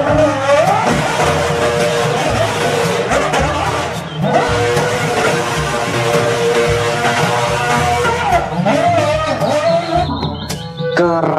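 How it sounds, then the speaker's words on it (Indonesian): A toy F1 race car sound effect plays loud and continuous, with a high revving engine whine sweeping up and down through repeated gear changes, cutting briefly near the middle before revving again. "Yang ini ada mobil balap F1."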